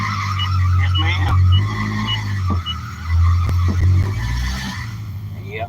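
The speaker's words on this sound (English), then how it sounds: "It's got a squealing belt." An old, raggedy work truck with a squealing belt runs close by: a steady, loud engine rumble with a thin, high squeal riding on top. The squeal swells and dips through the whole stretch.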